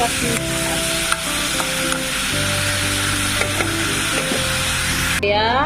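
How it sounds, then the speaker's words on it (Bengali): Mango chutney cooks in a pan after a tempering of black cumin and dried chilli, giving a dense, continuous close sizzle with the scrape and knock of stirring throughout, alone without speech. "কালো জিরা শুকনো লঙ্কা ফোড়ন দিয়ে আমটা বসে দিয়েছি"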